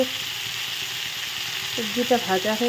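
Vegetables fry in a pan with a continuous close sizzle, and a few brighter clinks and scrapes near the end suggest stirring.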